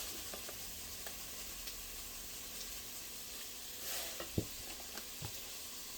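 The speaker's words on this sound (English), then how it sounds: "While the onions are cooking" Onions frying in a pot with kosher salt give off a soft, steady sizzle. A few light clinks and stirring taps break in near the end, and no one speaks.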